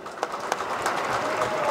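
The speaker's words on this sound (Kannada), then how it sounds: "ಶಶಿ ಸಾರ್ಗೋಸ್ಕರ ಒಂದು ಜೋರು ಚಪ್ಪಾಳೆ" An audience at a Kannada entertainment show applauds for Shashikumar, a steady wash of clapping at moderate level with a few sharper peaks, continuous for the short span.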